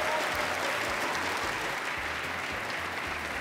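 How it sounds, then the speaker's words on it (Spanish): Steady, dense audience applause fills a gala final of a village beauty contest, loud and continuous throughout with no break, no voices standing out above the clapping. "un aplauso para los que acabamos de descalificar y para nuestros tres finalistas"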